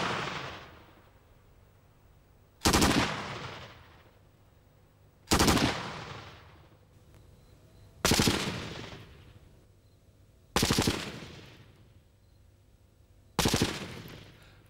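Small arms rounds striking a concrete block wall in a penetration test: five sharp, loud impacts spaced about two and a half to three seconds apart, each with a lingering decaying tail, no voices.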